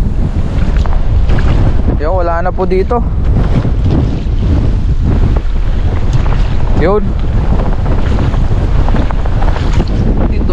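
Strong wind at sea buffets the microphone with constant roaring noise, while people hauling a fishing net speak briefly over it and a high whining tone rises twice.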